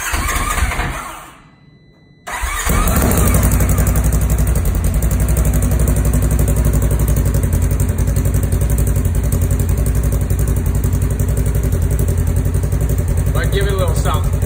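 A Polaris General UTV fitted with a Bikeman Performance slip-on exhaust starts after a brief near-silence, then settles into a loud, steady, throaty idle close by that runs unbroken for over ten seconds.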